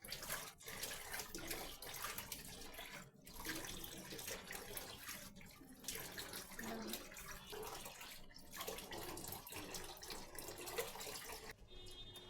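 Fish being washed by hand under a running tap, water splashing steadily and fairly close for the whole stretch with brief pauses, no voices.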